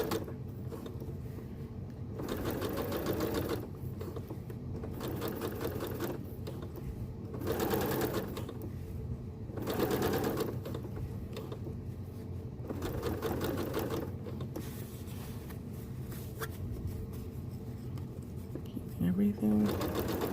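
A sewing machine stitches an invisible zipper into fabric, running in steady bursts of rapid needle clatter with brief pauses between, close and fairly loud, while a person talks quietly over the work.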